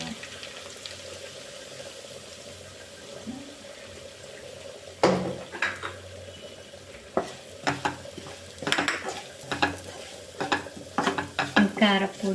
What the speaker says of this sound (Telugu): కారపొడి కొంచెం పచ్చి వాసన పోయేదాకా ఇలా ఆయిల్లో వేయించుకోవాలండి